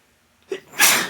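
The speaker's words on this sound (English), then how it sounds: "I'm gonna sneeze." A single close sneeze: a quick sharp intake of breath followed by a loud, explosive burst, alone in a quiet room.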